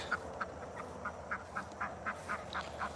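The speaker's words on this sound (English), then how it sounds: "And here's our last duck." A duck on a small backyard farm quacks in a steady, evenly spaced series of about eleven short nasal calls. The calls are moderately close and there is no talk.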